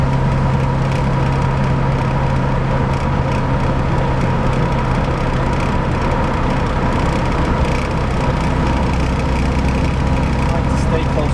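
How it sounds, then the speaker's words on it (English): A 1963 Rambler American engine idling during winter driving, a steady low drone with a constant hum that holds unchanged throughout. "Still, the engine's literally just idle."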